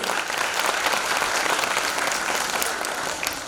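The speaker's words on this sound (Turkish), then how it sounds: "Onu yoğun bir alkışlıyoruz" A crowd at a Turkish young writers' speech event breaks into sustained, dense applause that stays steady and loud for its whole length, with no voices over it.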